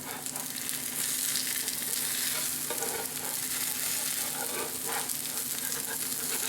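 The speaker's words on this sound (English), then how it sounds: "So I'm just going to cook these. I can cook for a while till they get golden brown." Northern pike fish patties fry in butter in a pan with a continuous, close, busy sizzle and crackle that stays steady throughout, with no voices.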